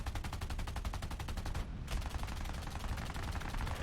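Machine guns on a WWII fighter plane fire in a fast, continuous rattling burst in a flight video game, then pause briefly and resume, loud and steady, with no voices.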